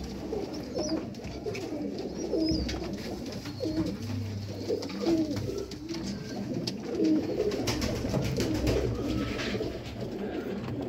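Sialkoti black-mouthed pigeons in a loft coo steadily, their low, rolling calls overlapping close by with no talk.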